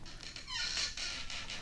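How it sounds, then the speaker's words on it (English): A trap door creaks open on a 1964 vinyl record of sound effects, a drawn-out squeaking hinge that rises and wavers over about a second, heard amid steady record hiss and surface noise. "Now we'll open the trap door."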